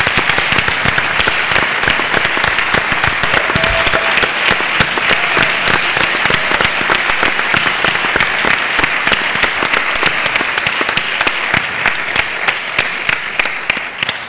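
Sustained, loud audience applause at a digital journalism congress in Huesca, Spain, dense clapping filling the hall without pause for about fourteen seconds before tapering slightly at the end.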